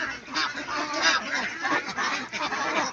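Ducks crowd together on a large duck farm, a dense continuous chorus of quacking and honking close by with no clear gaps.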